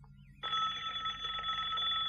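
A telephone starts ringing with a bright, steady electronic ring that holds continuously after a short quiet lead-in, fairly close and clear.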